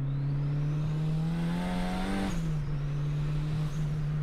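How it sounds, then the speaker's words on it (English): A 1998 Honda Civic with a turbocharged VTEC engine driven on the Autobahn, a steady close drone with a rising whirring tone that peaks, then settles back to cruising pitch. "And of course that turbo, you can hear that as well."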